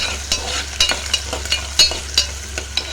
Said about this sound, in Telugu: ఇందులో ఒక 1/2 టీ స్పూన్ అల్లం వెల్లుల్లి పేస్ట్ వేసుకొని కలుపుకున్నాము